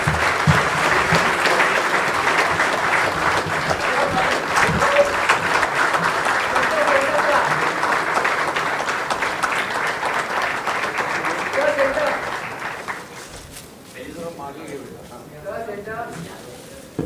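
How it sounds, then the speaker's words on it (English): A large audience at a felicitation function gives a long, sustained round of applause, a dense wash of clapping that carries on for many seconds before tapering off as voices come through. "I'd like to request everyone to please give a big round of applause"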